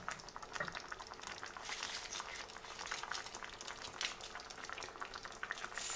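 Half an onion fries cut side down in a pan, giving a soft, even sizzle with faint crackling pops, heard quietly and close with no voices.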